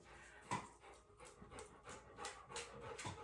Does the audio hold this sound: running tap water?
no